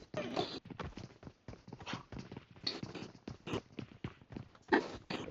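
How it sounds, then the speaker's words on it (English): Quiet, rhythmic footsteps in PUBG Mobile, an evenly spaced patter of steps on a hard surface, fairly faint and steady across the whole stretch. "I'm hearing steps."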